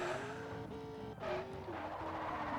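Race car in the Forza Horizon video game, a sustained engine drone with squealing tire skids sliding in pitch, at moderate level with no talk.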